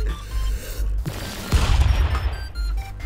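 An overpowered machine gun in Stick Fight lets off a loud rattling burst in the middle, with booming impacts and an electronic buzz under it, then a low rumbling tail.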